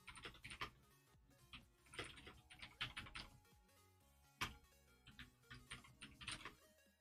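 Fingers type on a computer keyboard while coding a C/GTK chat client, producing quiet, irregular bursts of clicking keystrokes with short pauses between flurries.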